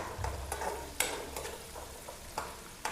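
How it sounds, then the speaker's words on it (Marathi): Chopped onion sautéing and being stirred in a pan, with a low steady sizzle and a few sharp scrapes and clinks of the spatula at irregular intervals, close and alone. "कांदा छान परतवून घ्यायचा"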